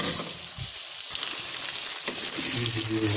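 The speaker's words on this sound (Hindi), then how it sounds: "तेज़ आंच में हमने ज़्यादा फ्राई करना है" Chicken karahi frying on high heat in a pan, giving a steady loud sizzle with scattered spatters and a few stirring knocks, alone without talk.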